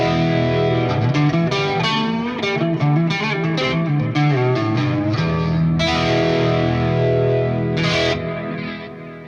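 Electric guitar runs through a wet-dry rig with the dry signal blended back in, giving a thick, effects-laden, slightly distorted tone as a steady stream of notes and chords rings out continuously, with no voices.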